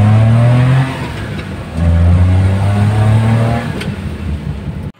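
A Suzuki Multicab with an F6A engine revs loudly up close on a test drive, two strong rising-and-holding engine pulls separated by a brief easing, then dropping off abruptly at the end.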